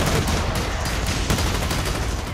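Constant heavy gunfire in Blacklight Retribution: a loud, unbroken stream of automatic shots with a few sharper cracks popping out over a rumbling base.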